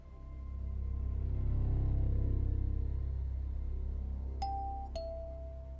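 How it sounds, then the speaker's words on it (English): Two quick electronic doorbell chimes ring out near the end over a low steady hum, the second tone slightly lower than the first. "I heard the doorbell ring"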